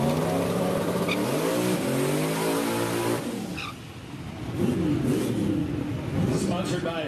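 A turbocharged small-block Ford Mustang coupe revs hard at a drag racing event, its engine rising and falling in pitch through repeated throttle blips, loud and close, with an announcer talking over it.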